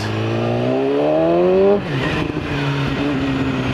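A BMW S1000RR sport motorcycle accelerates hard up close, its engine note climbing steeply in pitch, then a sharp gear change drops the revs before the engine pulls strongly again.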